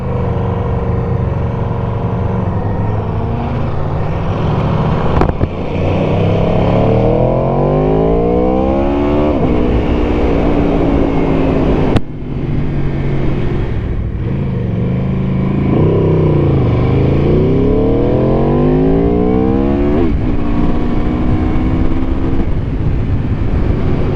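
A 2018 Aprilia RSV4RR motorcycle accelerating hard through the gears while pulling a wheelie, its loud, close engine rising in pitch repeatedly with sharp breaks at each gear change, steady and uninterrupted throughout.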